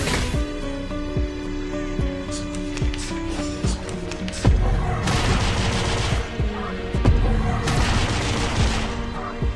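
Gunshots in the video game Reverse: 1999: sharp, scattered shots over a steady game soundtrack, with two louder clusters of rapid fire midway and near the end.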